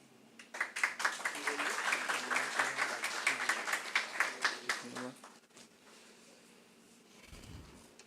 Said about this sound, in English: A huge round of applause, guys.